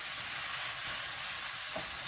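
Fine and chunky pork sausage meat frying in a pan, a steady soft sizzle that stays even throughout, quiet and close with no other sounds.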